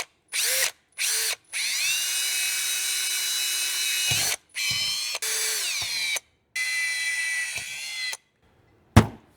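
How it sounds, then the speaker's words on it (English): A power drill bores holes during a carburetor modification on a vehicle, running in several short bursts with whining motor pitch shifts and brief pauses between, close and loud with no talk. "Let us drill some holes real quick"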